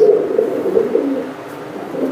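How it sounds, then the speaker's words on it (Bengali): Large pigeons kept by a breeder coo close by in low, throaty, rolling calls that run together in a continuous loud burble for about two seconds, with no talking. "দেখেন আপনারা বিশাল সাইজের কবুতর"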